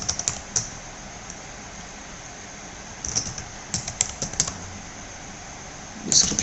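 A name being typed on a computer keyboard: light, quick key clicks come in short clusters with pauses between them, close and clear against a quiet room hiss.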